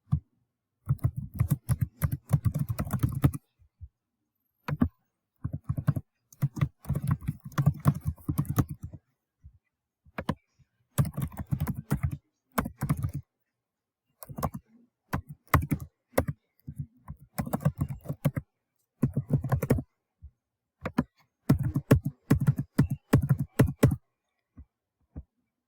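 Fingers typing on a computer keyboard while filling in an insurance form, close and quiet, in irregular bursts of rapid clicks separated by short pauses.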